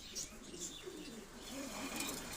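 Soft, low cooing from a pair of racing pigeons, faint and rolling, in a quiet setting.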